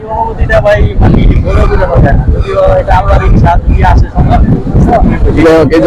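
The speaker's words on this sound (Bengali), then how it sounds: "চমৎকার বাতাস লাগছে" Strong wind buffets the microphone with a heavy low rumble while people talk over it continuously, at Sea Shell Park in Purbachal, Dhaka, during a motorbike riders' meetup.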